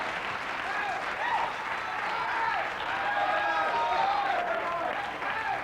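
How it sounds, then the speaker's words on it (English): A TV talk-show studio audience applauds and cheers in a broad, steady wash of clapping, with whoops and shouted voices rising over it throughout, moderately loud and continuous. "The crowd goes wild."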